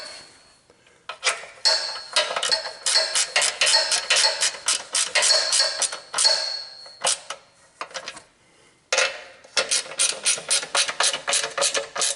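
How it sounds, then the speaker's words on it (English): Socket ratchet wrench clicking rapidly in repeated strokes while working on a Coleman minibike, close and crisp, with brief pauses between runs of turning. "Gonna need a socket for that."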